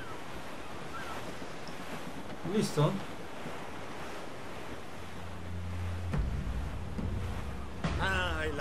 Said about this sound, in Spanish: El viento es más fuerte. Naveguemos a toda vela